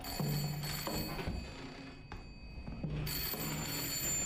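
A telephone in the horror video game Layers of Fear rings in repeated bursts with short pauses between them. The ring is clear and alone, with no talking.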